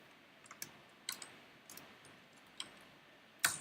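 Sparse, irregular clicks from a slightly odd computer keyboard, a few faint individual keystrokes spaced apart over a quiet room background, with one sharper tap near the end.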